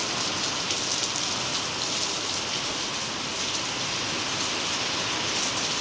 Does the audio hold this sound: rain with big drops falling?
yes